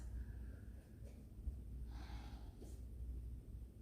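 Deep, slow breathing during a basic lower-body yoga stretch: a faint breath swells and fades near the middle over a steady low room hum, with no talking.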